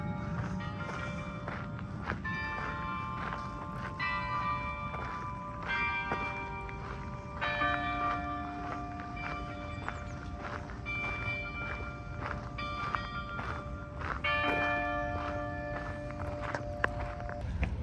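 Oslo church bells ringing near Akershus Fortress in repeated tolling strikes with long sustained tones, mixed with footsteps and outdoor street noise throughout.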